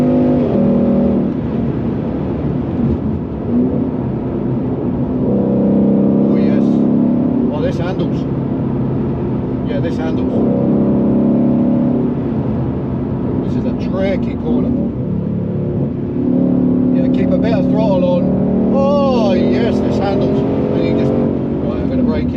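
A Ford Shelby GT350 Mustang pulling hard in third gear, its loud engine droning and rising in pitch through sustained acceleration heard from inside the car, with someone talking over it.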